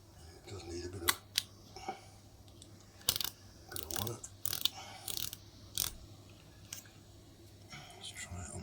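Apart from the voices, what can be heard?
Pax M2 rangefinder camera shutter mechanism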